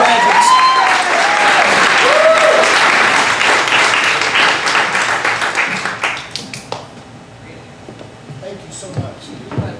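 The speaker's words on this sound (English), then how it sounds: "Let's give a round of applause to our graduates." A graduation ceremony audience claps in sustained applause for the graduates, dense and loud at first, then thinning into scattered claps that fade out over the last few seconds.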